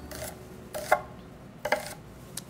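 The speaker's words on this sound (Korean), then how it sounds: "이 양배추 옆에다 놓고 양파 굵게 썰어서" A knife coarsely chops onion on a cutting board for soupy tteokbokki, giving a few sharp, separated cuts spaced about a second apart, close and fairly quiet with no voices.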